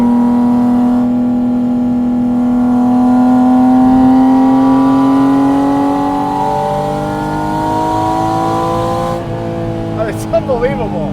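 A Porsche Spyder RS with a GT3 Cup engine revs and accelerates, its loud, close mechanical whine climbing steadily in pitch through the gears, then dropping off as the throttle eases, with a voice heard underneath.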